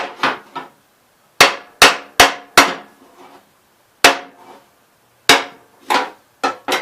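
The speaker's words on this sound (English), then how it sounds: "pry up and hammer at the same time." Sharp, loud hammer strikes ring out in irregular clusters while hammering and prying at a part on a 1974 812 Gravely tractor, each blow decaying quickly, with short silent gaps between bursts.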